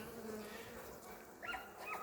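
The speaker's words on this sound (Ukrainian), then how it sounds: "Бачите, бджолки не залишають свою матку." Honey bees hum steadily inside a hive around their queen, a dense close buzz with a couple of brief louder rising whines near the end.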